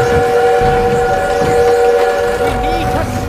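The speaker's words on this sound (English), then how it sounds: "We need to stop that train!" A train in the Call of Duty WWII campaign rumbles steadily and loudly with a sustained whistle-like tone held over it, all amid a busy wartime game scene.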